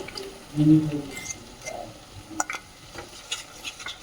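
Yogurt stirred into fried tomato masala in a pan over a medium flame for vegetarian Kashmiri paneer, soft wet squelching and a low sizzle with a few scrapes, close and without talk.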